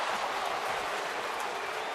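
A baseball stadium crowd roars steadily with booing over an umpire's call at first base during an Atlanta at Houston game, a dense wash of noise from many voices spread across the stands.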